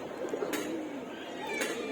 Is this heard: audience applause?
no